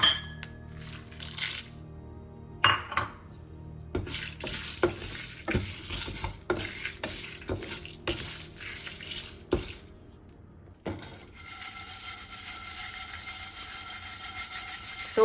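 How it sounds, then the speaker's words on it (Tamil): Spices, masala and dried red chillies dry-roasting in a pan, a spatula scraping and clinking against the metal in irregular sharp taps, with a faint sizzle rising toward the end. "இதை லைட்டாக வறுத்து எடுத்துப்போம்."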